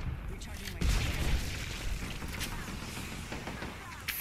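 Grenade blasts in the Apex Legends battle royale game: a loud low boom about a second in, followed by sustained rumbling gunfire and explosion noise.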